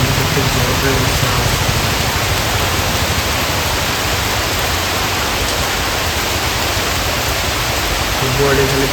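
Heavy rain pours down in India as a dense, steady broadband hiss that holds at the same loud level throughout, with low rumbling underneath and voices faintly audible in places.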